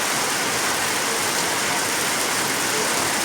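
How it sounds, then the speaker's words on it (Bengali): Heavy torrential monsoon rain pours down in a steady, dense hiss with no gaps, close and fairly loud, and no one speaks over it. "আর এদিকে শুরু হয়ে গেছে প্রচণ্ড মুসলধারের বৃষ্টি আর এত গরম মানে জাস্ট থাকাই যাচ্ছে না খুব বৃষ্টি শুরু হয়েছে"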